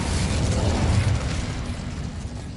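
An Incendio fire spell from Hogwarts Legacy erupts as a dense, roaring burst of flame that swells quickly and then slowly tapers over a couple of seconds, loud and close, with no voices.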